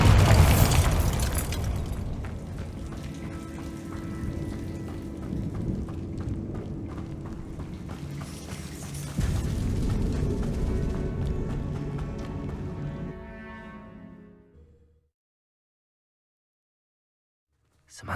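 Magical Bombarda blast in Hogwarts Legacy: a loud booming burst at the start, then rumbling debris and a second surge of crashing noise, fading away to silence near the end.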